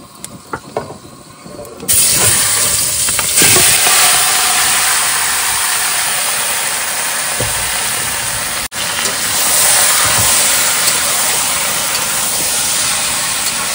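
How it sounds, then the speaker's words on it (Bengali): Meat is dropped into hot oil already holding whole garam masala. A loud, steady sizzle breaks out abruptly after a quiet start, then hisses continuously up close with a brief dip near the end. "তেল গরম হয়েছে বন্ধুরা, এবার দিয়ে দেবো গোটা গরম মশলা। এবার দিয়ে দেবো মাংস।"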